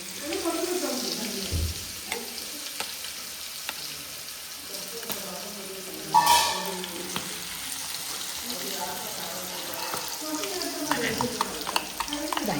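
Chicken fat pieces fry in a pan with a continuous crackling sizzle, stirred now and then, with a brief louder burst midway and faint voices around.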